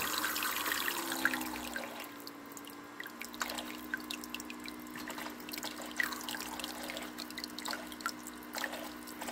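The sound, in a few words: water squirting and dripping from an ice maker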